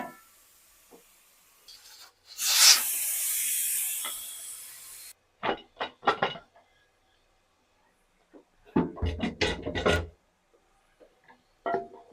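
Raw green mangoes go into a hot pot of bhindi gosht, giving a sharp burst of sizzling steam that lasts a few seconds. Scattered scraping and clattering of a spoon against the pot follow in short bursts.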